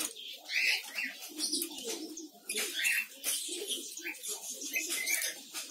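Lovebirds in a village colony chatter with dense, shrill chirps and calls close by, while a person talks over them.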